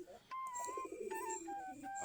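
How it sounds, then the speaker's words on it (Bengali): Domestic native-breed pigeons coo close by in a steady, overlapping run of low throaty calls, with a few brighter chirping notes laid over them and no talking. "আমাদের দেশি জাতের কবুতর"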